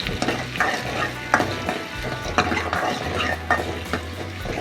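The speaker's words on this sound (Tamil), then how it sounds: "இப்போ இந்த வெங்காயம்லாம் நல்லா வதங்கணும்" Onions for kara kuzhambu sautéing in a pan, a close steady sizzle with rhythmic stirring scrapes and occasional utensil clinks against the pan, and no talk.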